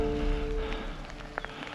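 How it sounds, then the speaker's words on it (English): Light rain falling outdoors in the Vosges mountains, a soft continuous patter over a low steady hum, with a couple of slightly louder drops near the end. "Just started a little bit of rain again"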